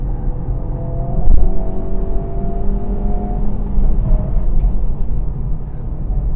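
Honda Civic Type R fitted with KW suspension (ST XTA Plus3, V3 Clubsport) driving, a steady engine drone with harmonic tones and a brief louder swell, close and continuous without talk.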